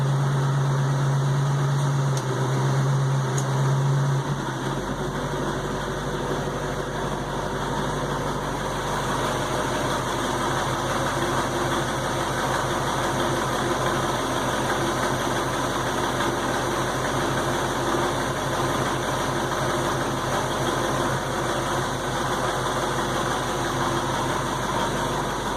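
A warmed-up 1968 Ford Mustang idles in gear, a steady engine hum with an underlying rhythmic clunking, close and constant after a brief shift in the low rumble early on.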